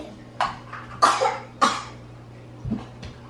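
A young child coughs in a quiet room: several sharp coughs spaced irregularly over a few seconds, close and clear, with a low steady hum underneath.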